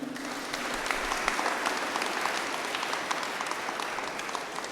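A church crowd at a feast-day Mass claps steadily, dense and even, sustained applause from start to finish with no voices standing out.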